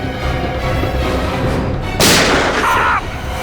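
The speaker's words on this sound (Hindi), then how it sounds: "सर गोली चली है" A single loud gunshot crack cuts through noisy dramatic background sound about midway, bursting out and then trailing off for roughly a second, in a crime drama scene.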